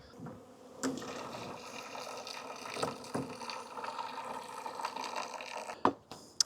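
Sugar water is poured into a beehive feeder in early spring, a steady close trickle and gurgle of liquid that ends with a few sharp clunks of the container.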